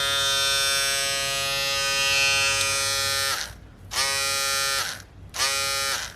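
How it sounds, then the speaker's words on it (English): Babyliss Pro Travel FX electric shaver runs with a loud, steady high-pitched buzz close to the microphone, then cuts off and restarts in short bursts, without speech. "all these shavers be sounding pretty loud"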